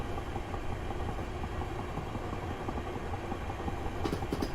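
Class 375 electric multiple unit in Train Simulator 2018, coasting downhill with no power near Longfield; a steady rolling rumble and rail noise throughout, with faint rhythmic clicks of wheels over joints and a brief hiss near the end.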